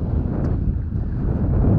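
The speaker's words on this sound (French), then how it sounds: "Le vent continue à être là pour l'instant" Wind buffeting a microphone aboard a sailboat at sea in a steady breeze of about 12 knots, a continuous loud rushing roar with low gusty rumble and no voices.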